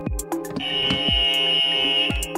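A quiz-show buzzer sounds on a road-safety quiz: one sustained electronic buzz that rings for nearly two seconds over a busy background, with no talk.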